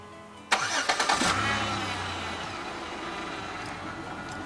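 A 2007 Chevrolet Impala engine starting by remote start: a sharp crank with a few quick pulses settles into a steady, close idle, with no voices.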